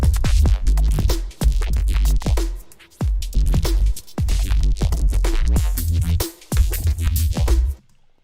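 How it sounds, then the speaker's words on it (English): A thick, gritty Reese bass synth made in Ableton for a neuro bass track plays a busy, pulsing pattern with punchy drums for about eight seconds, loud and close, then stops abruptly. "and the bass sounds like this."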